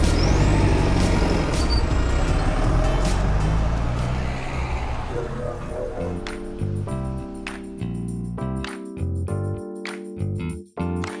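A BELAZ 7510 giant mining dump truck lets out a loud, rushing air-brake hiss, then settles into a deep, droning engine rumble with a few sharp knocks near the end.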